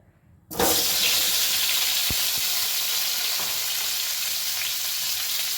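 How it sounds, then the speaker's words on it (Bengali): Boiled, peeled potatoes hit hot oil in a pan and burst into a loud, steady sizzle that holds at full strength, with a few faint knocks of a utensil underneath. "লবণ দিয়ে আলুগুলোকে খুব ভালো করে একটু লাল লাল করে ভেজে নেব।"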